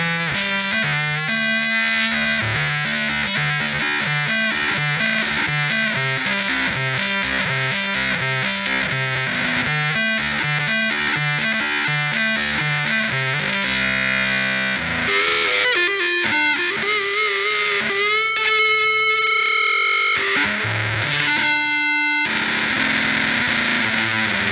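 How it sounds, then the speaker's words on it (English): Electric guitar run through a Voxengo Boogex amp simulator with distortion plays a busy, rhythmic riff, then sustained crunchy chords and held notes with gritty breakup, loud and steady for the whole stretch, no talking. "it's a cool tone because you get some really nice breakup on the distortion"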